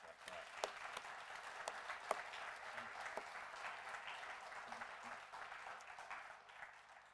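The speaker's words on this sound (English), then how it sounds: "So I wonder if we can give them another round of applause." A crowd applauds steadily, a dense patter of clapping with a few sharper individual claps, fairly quiet and distant.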